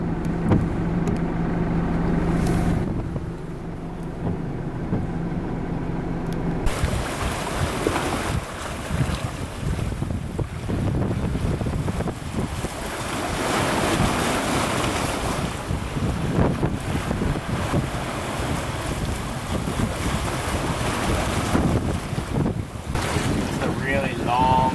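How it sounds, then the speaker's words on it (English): Ocean waves crash on the coast during Tropical Cyclone Dylan, a continuous loud roar of surf heavily buffeted by gusty wind noise on the microphone, with a brief voice near the end. "Love them waves."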